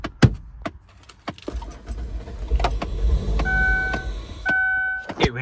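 A 2001 Ford Windstar that sat unused for eight years cranks and briefly runs with a low rumble for a second or two, amid jangling keys, electronic dashboard chimes and clicks inside the van.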